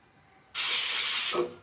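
A pressure cooker on a stove lets out a sudden loud blast of hissing steam that holds steady for nearly a second, then tapers off quickly, heard close and alone.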